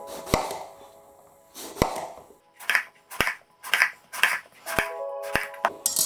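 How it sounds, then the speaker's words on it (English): A knife cuts through aubergine on a board in a run of crisp, sharp slicing impacts, irregular at first and then quicker and more regular, close and clear with no talking. "And then we just want to do nice slices of it going down."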